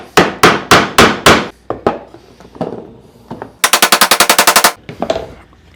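Hammer driving nails into solid wood drawer parts in a woodworking class: several loud, evenly spaced blows, then scattered single strikes and a quick rapid burst of hits, close and with no talk.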